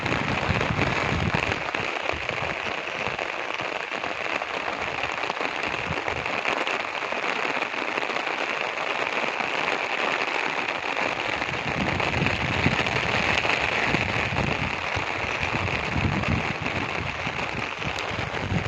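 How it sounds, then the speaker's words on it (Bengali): Steady heavy rainfall hisses and patters on surfaces throughout, dense and continuous, with no voices heard. "ঠিক আছে বন্ধুরা, বৃষ্টি অনুভব করো।"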